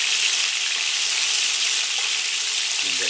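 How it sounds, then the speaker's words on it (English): Beef browning in a pan for Greek stifado, a steady loud broadband sizzle of frying meat throughout, with a faint low clink near the end. "We want some nice browning on our meat."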